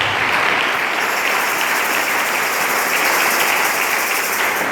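A church congregation applauding the Lord during a French-language service, loud, dense and sustained clapping from a large crowd filling the whole stretch without a break.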